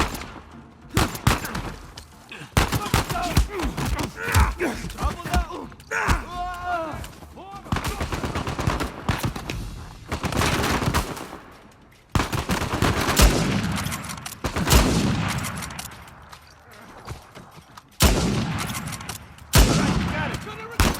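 Sniper fire and other gunfire in the video game Uncharted 4 cracks out in repeated loud bursts across a chaotic firefight, with voices shouting in the middle of the shooting.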